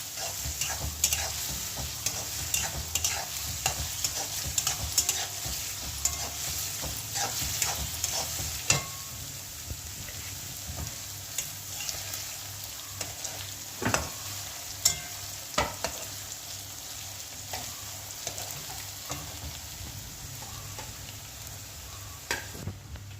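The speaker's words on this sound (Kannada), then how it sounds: "ಸ್ವಲ್ಪ ಸೌತೆಕಾಯಿ ಮೆತ್ತಗಾಗೋವರೆಗೆ ಹುರಿತಾ ಇರಬೇಕು." Cucumber frying in a pan for a Karnataka-style cucumber gojju, a steady sizzle broken by repeated scraping stirs and sharp clinks of the utensil against the pan, heard close with no talking.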